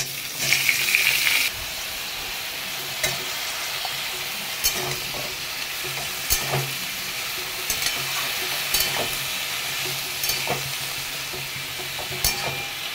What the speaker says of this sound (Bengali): এখন ফোড়ন খালি তরকারিটা ভেজে সিদ্ধ করবো আগে